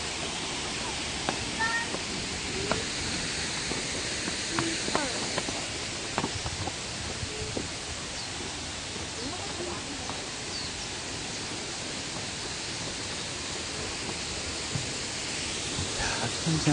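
Steady roar of the third Cheonjeyeon waterfall fills the scene, a broad continuous rush with faint bird chirps and brief rustles on top.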